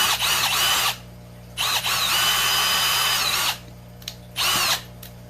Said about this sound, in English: what we're going to do is just drill